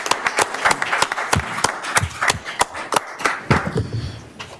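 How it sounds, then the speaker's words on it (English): A meeting audience at a board of managers session breaks into steady applause, a dense patter of many hands clapping for several seconds, fairly close and loud, tapering slightly toward the end. "They deserve a round of applause."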